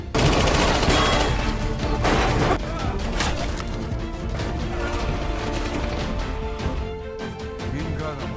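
A shootout in a Tekken film, with dense, loud bursts of gunfire and crashing impacts over a continuous action-scene soundtrack, the shots rattling in rapid clusters throughout.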